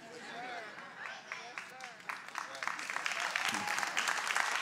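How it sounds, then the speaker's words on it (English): Congregation clapping at a Sunday church service, a broad wash of applause that swells toward the end, with a voice talking over the start. "And we just clap."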